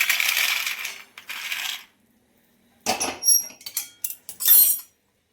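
Roasted peanuts tipped from a pan onto a plate make a loud rattling pour, then a pause, followed by several sharp clattering bursts as the last nuts tumble and settle.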